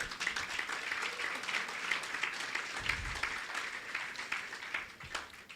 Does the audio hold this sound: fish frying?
no